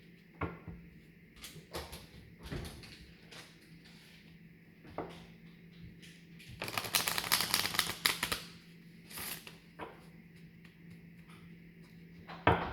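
Tarot cards are handled and shuffled, with scattered soft taps and flicks and a dense riffling burst in the middle, then a few more quiet taps.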